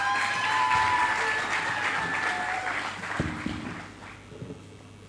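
Audience applause at an entrepreneurship forum for African founders, broad steady clapping from a large crowd that gradually thins and fades toward the end.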